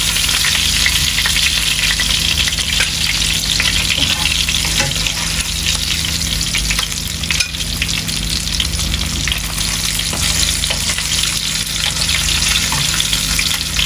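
Fish frying in a pan, an unbroken loud hiss and crackle of hot oil that holds steady throughout, with a faint constant hum underneath and no voices.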